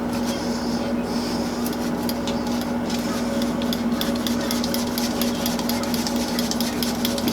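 Cheese being shaved from a wheel straight into a mac and cheese dish, a steady continuous rasping scrape with faint rhythmic strokes, close and alone.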